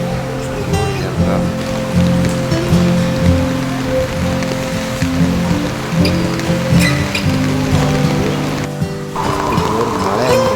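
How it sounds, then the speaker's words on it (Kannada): Heavy rain pours at Karinja temple in Bantwal, Dakshina Kannada, a dense, unbroken roar of drops striking nearby surfaces, steady and loud throughout, with a low rumble beneath. "ಸಿಕ್ಕಾಪಟ್ಟೆ ಜೋರು ಮಳೆ ಬರ್ತಾಯಿತ್ತು"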